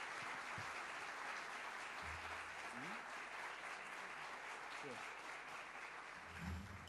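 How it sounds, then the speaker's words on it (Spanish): A lecture audience applauds steadily for a speaker after his talk on the change education needs, a dense, sustained wash of clapping that holds evenly with a few faint voices underneath. "¿Le podemos renovar el aplauso, por favor?"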